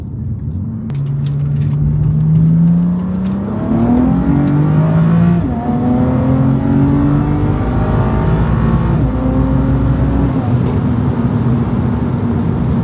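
BMW M2 F87 Competition with the S55 engine and an equal-length single hybrid midpipe exhaust drones loudly and steadily, revs rising and falling smoothly under light throttle load with a deep, even harmonic tone.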